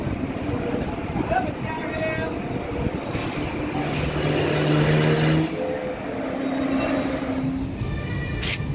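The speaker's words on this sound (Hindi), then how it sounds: "हाँ देखिए सामने जो ट्रेन आ रही है यही है पाटन महसाणा पाटन लोकल, ये आ गई है।" The Patan–Mahesana local passenger train pulls into Sabarmati broad-gauge station with a continuous heavy rumble, squealing wheels and sustained metallic tones, loud and close throughout.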